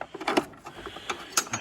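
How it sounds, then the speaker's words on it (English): A hand ratchet clicks in short bursts while loosening the battery clamp on a 2009 Ford Fiesta 1.4 TDCi, with scattered metallic ticks and clunks close by. "And remove the battery clamp."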